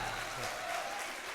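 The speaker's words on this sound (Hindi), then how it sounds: "अगर लगा है तो जाहिर करें, जोरदार तालियां बजाएं एक बार।" Audience at a kavi sammelan and mushaira poetry recital in a Kanpur hall, clapping in a steady dense burst of applause that fills the whole short moment.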